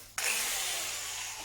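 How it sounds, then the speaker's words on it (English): A power drill bores a hole into a wooden stool, starting abruptly and then running at a steady, loud whine that continues unbroken to the end, with no talk over it. "So all I'm going to do is drill a hole in there."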